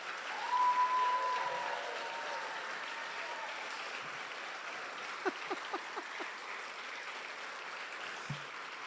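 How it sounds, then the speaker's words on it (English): A small crowd's applause swells and then thins into scattered claps for performers and speakers at an online award celebration, heard at moderate distance with a few sharper late claps near the end. "let's have a big round of applause for all of our performers"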